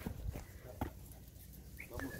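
Dog whimpering and yelping during an armadillo hunt outdoors, faint short whines and soft thumps under low background noise, with a brief voice near the end.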